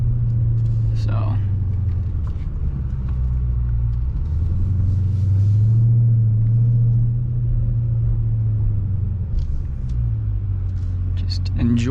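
A 2020 Dodge Challenger Scat Pack Widebody with an opened-up exhaust rumbles steadily and loudly, its engine note rising and falling as it accelerates, with faint voices audible at moments.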